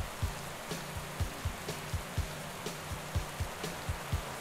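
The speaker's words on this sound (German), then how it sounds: "Regenwetter, nicht die idealen Bedingungen, muss man sagen." Rain in the cycling game Pro Cycling Manager 2014, a soft hiss of falling rain with regular low thumps pulsing underneath at a steady rhythm, faint and with no speech.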